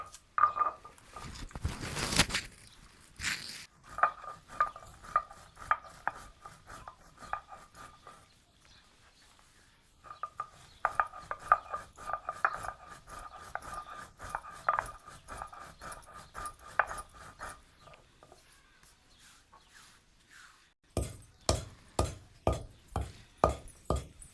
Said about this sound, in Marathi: आत्या इलायची आणि सुंट वाटणार आहेत